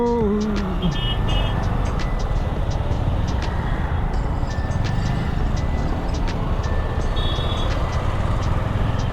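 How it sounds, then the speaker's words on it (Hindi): Busy Mumbai road traffic, a dense steady roar of vehicle engines close by with repeated short horn honks cutting through and a brief rising motor whine near the start, no talk. "ये ट्रैफिक।"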